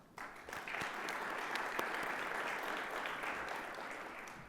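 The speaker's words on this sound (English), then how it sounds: "let's give a big round of applause to everyone who makes these conversations happen" Audience applause at a Columbus Metropolitan Club forum on cybersecurity in the age of AI, a sustained crowd clapping that swells in quickly and holds steady, moderately loud, with a few sharper individual claps.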